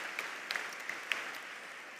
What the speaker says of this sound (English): Can we give a round of applause for Dylan again and an ensemble performance?